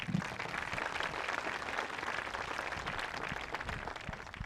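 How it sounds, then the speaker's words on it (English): An audience at a high school marching band's senior recognition on an outdoor athletic field applauds, a faint, distant, continuous wash of many hands clapping. "Let's hear one more round of applause for our seniors"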